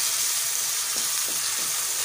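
Chicken mince frying in a pan, a steady close hiss of sizzling with a few faint stirring movements and no voices.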